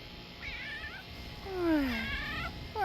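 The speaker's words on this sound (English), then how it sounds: "I spy a kitty." A cat meows about three times, each cry a clear, close, drawn-out wail, the longest falling in pitch, set against quiet background hum.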